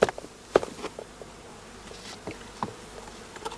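Honeybees in a shook swarm being sprayed with water during hive rotation give a low, steady buzz close by, broken by a few sharp knocks and rustles.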